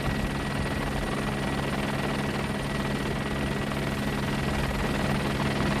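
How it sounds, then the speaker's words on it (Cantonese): A helicopter fighting a dry-weather hillside wildfire and evacuating trapped people on Pat Sin Leng near Bride's Pool, Hong Kong, keeps up a loud, steady rotor and engine drone that stays close and unbroken throughout. "直升機除咗救火之外，仲將被困嘅人調離現場"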